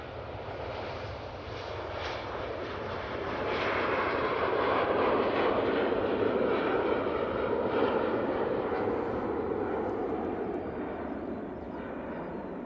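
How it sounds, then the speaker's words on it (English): A Cathay Pacific Airbus A350-900 roars down the runway on its takeoff roll at Manchester Airport, a broad, steady jet rumble that swells in the middle and holds loud, heard from a distance without any talk. "Cathay Pacific A350-900 returning to Hong Kong, now on the roll"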